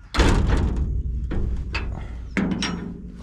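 A door in a run-down building is pushed and fails to close, giving several heavy thuds and bangs with rattling between them, loud and close, in bursts over about three seconds.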